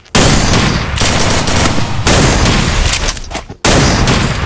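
Loud, nearly continuous automatic gunfire from the Free Fire video game, rattling in long dense bursts with only brief breaks between volleys.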